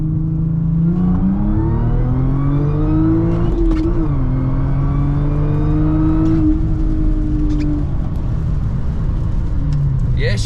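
Audi S4 with a Jackal Motorsports stage 2+ tune pulling hard down a straightaway, engine note climbing steadily through the gears with a brief shift dip, loud and close from inside the car.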